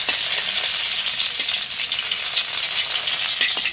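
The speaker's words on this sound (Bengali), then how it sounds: "এই তেলের মধ্যে আলুগুলোকে ভালো করে ভেজে নেব, লালচে করে" Potato pieces frying in hot oil until reddish, giving a steady, dense, close sizzle that stays loud and even throughout, with no voices.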